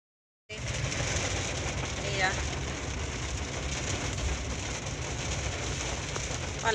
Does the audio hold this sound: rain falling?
yes